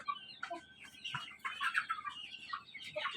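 Tiger breed chickens cluck and call in a busy coop, with several overlapping bird voices rising and falling throughout, fairly close and steady without pause.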